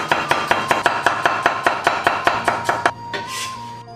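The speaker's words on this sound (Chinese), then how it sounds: "大蒜切片" A knife slicing garlic cloves on a cutting board, about fourteen crisp, evenly spaced chops close up, then the cutting stops.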